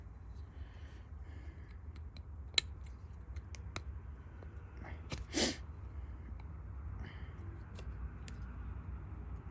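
An old Walden ratchet, rusty and freshly oiled, gives scattered sharp clicks and ticks at close range over a steady low hum, with one louder rasping burst midway.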